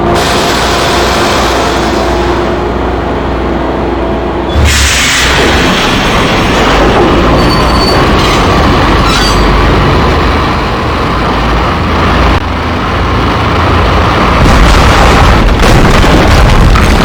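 A train running in the Max Payne video game, a loud continuous rumbling roar with clattering bursts and sharp metallic bangs, dense and close throughout.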